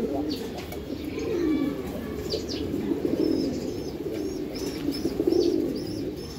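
Giribaz racing pigeons, a male and female pair, coo repeatedly at close range, with soft chirps and a brief flutter of wings, while people talk nearby.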